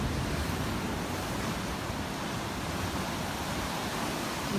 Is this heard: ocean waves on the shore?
yes